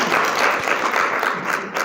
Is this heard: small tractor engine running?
no